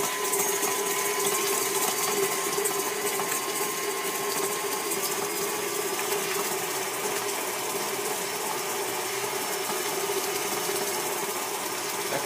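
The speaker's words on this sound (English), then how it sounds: "So then I'm whisking 4 tablespoons of butter with a 1/4 cup of" Butter is whisked with sugar for cherry pistachio biscotti, making a continuous, even mechanical whirr with a fine rattling texture that runs steadily from start to finish.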